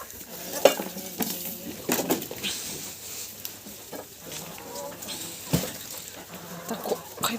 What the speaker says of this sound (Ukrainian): Все, тако зараз все перемішую, набираю відро і розношу.